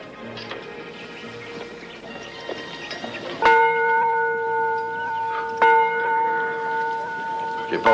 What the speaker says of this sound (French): fais sonner la cloche